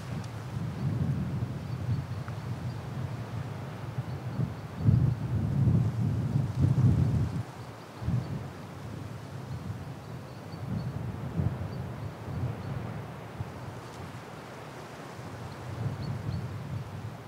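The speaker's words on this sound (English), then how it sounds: "the wind is making quite a lot of noise" Wind blowing across a foggy alpine hillside, a low steady rumble and buffeting on the microphone that swells in gusts, with no voices.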